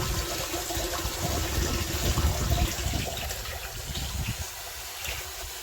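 Jivamrut liquid fertilizer mixed with water flows through drip irrigation lines on an organic farm, making a continuous close gushing and bubbling of running liquid with no speech.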